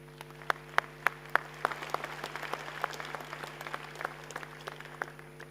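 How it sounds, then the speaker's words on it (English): Conference audience applauding at an investment conference in South Africa, distinct individual claps ringing out in a large hall, fairly faint and distant over a steady electrical hum, loosely rhythmic and fading out. "I think that deserves a round of applause."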